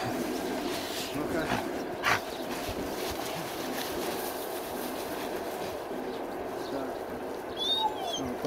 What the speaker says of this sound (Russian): А здесь какая-то визжит собака.